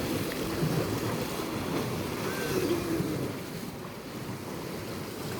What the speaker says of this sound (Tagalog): Ang lakas ng alon no yan.